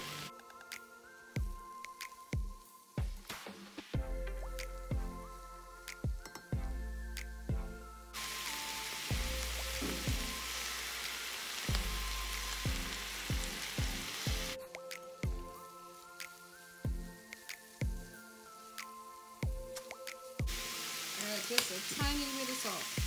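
Onions, garlic, oyster mushrooms and baby portobellos hit a hot pan and fry with a bright crackling sizzle, interrupted by sharp clattering knocks and stirring, with quieter stretches between bursts.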